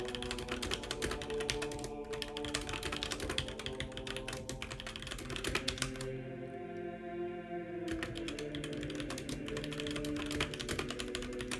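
Typing on a computer keyboard during a game development podcast, a steady stream of quick soft key clicks with a brief pause midway, fairly quiet under a faint hum.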